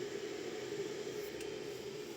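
An electric kettle running on 220 volts from an inverter hisses steadily as its water heats, a constant, even rushing noise with no voices.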